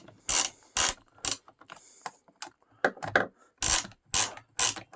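A ratchet-style scrench clicks in short, sharp bursts at close range, several quick runs of ratcheting separated by brief pauses, with no talk.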